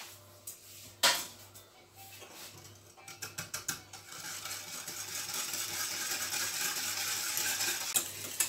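A spoon clicks against a bowl in a quick run of light taps, then gives way to a continuous soft scraping swish as cornstarch is stirred into a mixture, close and clear.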